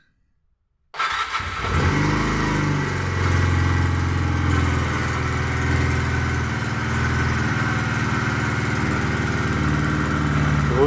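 A 125cc liquid-cooled inline motorcycle engine starts up after a moment of silence, then runs at a steady, loud, close idle with an even buzzing drone and no talk.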